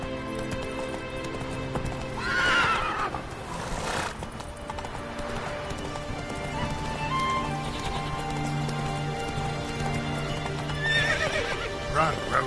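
A horse in The Witcher 3 video game gallops with rhythmic clip-clop hoofbeats and lets out several loud whinnies, with rain and game ambience around it and a voice speaking briefly.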